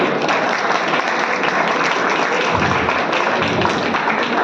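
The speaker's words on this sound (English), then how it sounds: "Please welcome them with a huge round of applause, everybody." A dense burst of applause fills an inauguration event at an engineering college, many hands clapping continuously and loudly from start to finish.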